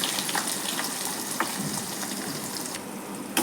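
Onions, garlic, curry leaves, fenugreek and green chillies frying in oil for a fish curry, a steady close hiss of sizzling with faint crackles and small pops throughout, no voices.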